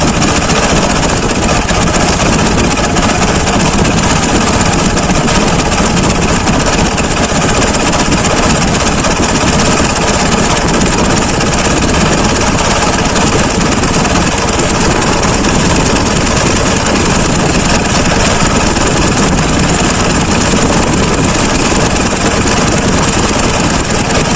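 A K-750 motorcycle engine runs loud and steady at idle in fourth gear, a dense unbroken mechanical drone with rattling vibration lasting throughout, close to the microphone with no talk over it.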